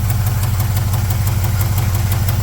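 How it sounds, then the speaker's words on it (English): An LS-swapped C10 truck idles with a header exhaust leak, giving a rapid, regular ticking click riding over a steady low engine rumble, close and loud with no talk. "The header or something's got an exhaust leak on it."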